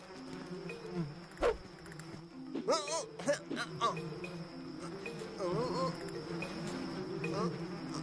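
A fly buzzes in a Turkish-dubbed cartoon, its thin wavering whine coming and going around a character. Cartoon sound effects and brief voice sounds come in between.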